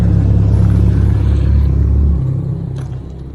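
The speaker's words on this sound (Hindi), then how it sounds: "ये गाड़ी की आवाज़ बहुत ज़्यादा आ रही है।" Loud street traffic in Vientiane, Laos, with a heavy low engine rumble from passing vehicles that is strongest at first and eases off toward the end.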